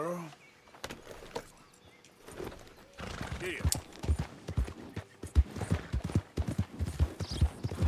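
A horse in the video game Red Dead Redemption 2 neighs, then its hooves clip-clop in a quick, uneven rhythm at close range. Faint speech-like sounds also appear.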